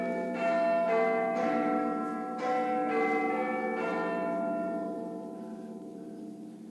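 Church bells ring continuously in a rich, sustained peal, overlapping tones swelling and fading together for several seconds, fairly loud and alone without any voices.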